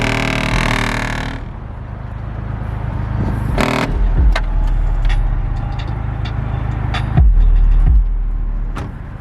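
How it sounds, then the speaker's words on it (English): Car panels rattling under heavy bass from a Skar Audio SDR series single 15-inch 1,200-watt subwoofer, a loud continuous low rumble with buzzing vibration and a few sharp clicks and thumps. "It is starting to rattle again already."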